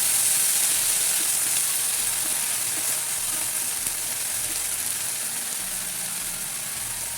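Chopped banana flower frying in a pan for a Tamil poriyal, giving a continuous bright sizzle and hiss with no breaks, steady and fairly close throughout.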